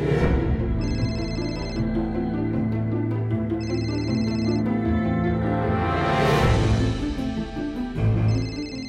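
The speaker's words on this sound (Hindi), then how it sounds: "सोनी फोन उठाओ" A phone ringtone chirps in short high bursts about every three seconds, repeating three times over loud, continuous background music.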